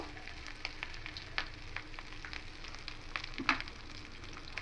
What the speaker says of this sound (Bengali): আলুগুলো হালকা লাল লাল করে ভাজা হয়ে যাচ্ছে